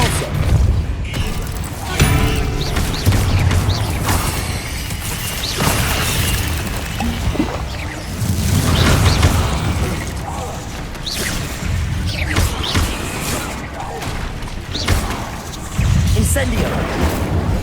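Depulso force spell cast in Hogwarts Legacy, a run of heavy whooshing blasts and crashing impacts recurring every few seconds, loud and close, mixed with game effects and in-game speech.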